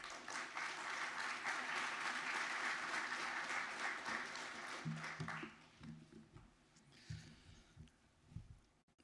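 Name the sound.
applause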